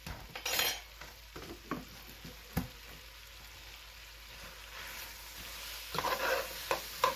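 Flour is stirred into the fat of a corn chowder base, with soft scraping and a few clinks of a utensil against the pot over a faint low sizzle, ending in a couple of louder knocks.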